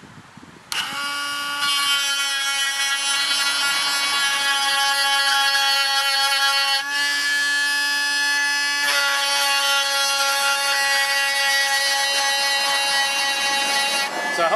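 A chainsaw chain is sharpened with a stone, giving a loud, sustained high-pitched grinding whine with a strong steady tone that breaks briefly midway and resumes, then stops near the end.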